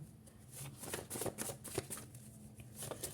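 Tarot cards are handled and shuffled close by: quiet, irregular papery riffles and flicks in short clusters, with soft gaps between them.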